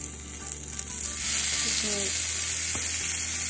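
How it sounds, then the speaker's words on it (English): Sriracha chicken kebab pieces sizzle loudly in a hot pan, a steady broadband frying hiss that swells as the meat goes in and then holds, with a few small clinks partway through. "so my pan is hot and I'm about to put this inside"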